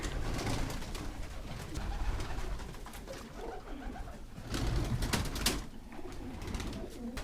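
Soft, low cooing from several pigeons, including young birds, in a loft nearby, overlapping with rustling and occasional wing flutters, continuing steadily with no one speaking.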